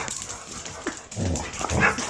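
Dogs at a ranch in Colima, Mexico bark and whimper in short yips before feeding, a few close barks stacking up toward the end, with no talk over them.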